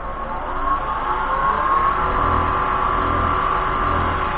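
A lathe spins at 2,500 while a pen blank of pine cones cast in Alumilite resin is polished with micromesh. Its steady motor drone whines continuously and rises slightly in pitch, close and alone, with no talking.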